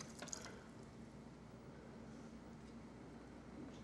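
Water trickles and drips faintly into a pot of rice, a soft continuous pour with no one talking.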